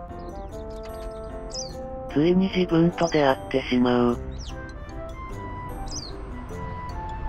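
Japanese white-eye giving short, high chirps, several scattered calls at moderate distance, heard alongside a voice speaking continuously through the clip.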